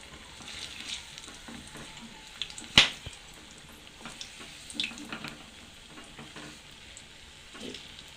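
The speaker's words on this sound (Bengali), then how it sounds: "মাগুর মাছের ডিম জমে ফোটা ফোটে।" Magur fish roe frying in a covered pan, with steady soft sizzling broken by sharp spattering pops, one especially loud crack near the middle.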